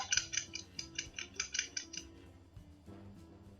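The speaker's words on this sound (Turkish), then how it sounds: "Orada klavyemden gelen ses için özür dilerim." Rapid clicky taps of computer keyboard keys, a quick run of crisp presses in bursts with short pauses, over a faint low background hum.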